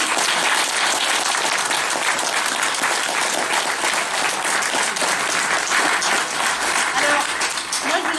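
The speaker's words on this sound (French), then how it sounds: "je pense qu'on peut encore les applaudir" Sustained theatre audience applause, a dense even wash of many hands clapping steadily for several seconds, loud and close with little variation.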